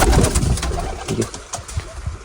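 Pigeons coo in a pigeon-rearing shed, their soft low throaty calls repeating in short overlapping bursts close by amid rustling, with no talk.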